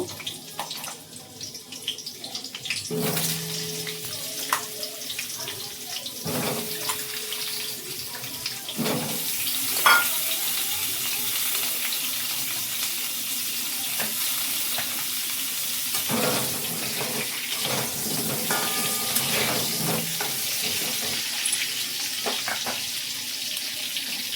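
Potatoes frying with salt in a pan for mutton biryani, a steady soft sizzle running throughout with occasional clinks and scrapes of a utensil, close and moderately loud, no voices.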